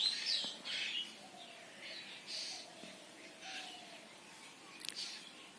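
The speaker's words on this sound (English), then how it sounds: "You will hear Azan 5 times in a day, and this beautiful song of the birds" Birds in rural Bangladesh chirp and tweet softly in short, scattered calls against a quiet outdoor background with no traffic, faint and fairly distant.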